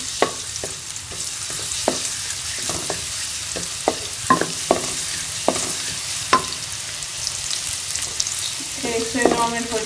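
Crushed garlic frying in two spoons of cooking oil in a karahi, a steady close sizzle broken by sharp clinks and scrapes of a stirring spoon against the pan, with no talking.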